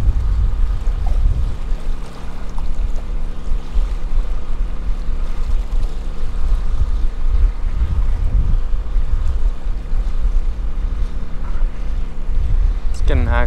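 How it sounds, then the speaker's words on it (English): Loud wind buffets the microphone at a night fishing spot on the Texas City Dike, a steady low roar with gusts throughout and faint water in the background. "This wind has got me acting up."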